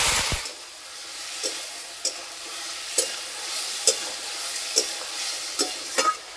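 Spice paste with turmeric sizzling in a pan as lau and katla fish curry is cooked, a steady hissing fry broken by a series of sharp spatula scrapes and stirs, close and fairly loud, with no talking.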